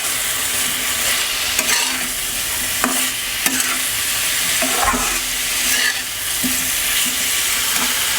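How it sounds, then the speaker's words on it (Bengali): Pieces of man kachu, giant taro, frying in a pan, a loud continuous sizzle broken by occasional scraping stirs of a spatula, close and steady with no talking. "কচুটা ভেজে নেব"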